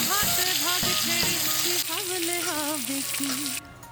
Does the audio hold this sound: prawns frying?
yes